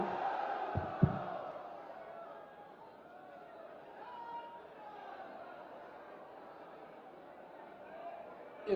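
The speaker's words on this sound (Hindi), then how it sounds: "बस जोरदार तालियों के माध्यम से अभिनंदन वंदन स्वागत" A large crowd at a development project inauguration in Kannauj roars in welcome for CM Yogi, a diffuse, sustained wash of cheering and chatter that lasts several seconds and sounds somewhat distant.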